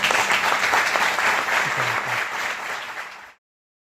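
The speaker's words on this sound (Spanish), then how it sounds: "Les invito a acompañarme con un fuerte aplauso para recibir al ponente de esta tarde" An audience at an engineering lecture in Badajoz applauds to welcome the speaker, a dense burst of many hands clapping that holds steady, then fades and stops abruptly.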